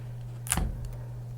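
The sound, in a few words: adhesive tape being applied to a sublimation wrap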